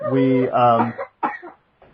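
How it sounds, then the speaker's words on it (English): A child coughs close up in a quick rough burst, followed by a short second cough and a faint breath. "after my child stops coughing"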